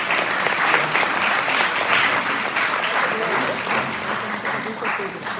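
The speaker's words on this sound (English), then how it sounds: "Give them a big round of applause." Sustained, dense applause from a large audience at a Hindu temple gathering in Florida, steady and loud throughout without pause.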